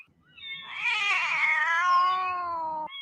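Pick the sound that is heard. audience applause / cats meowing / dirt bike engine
cats meowing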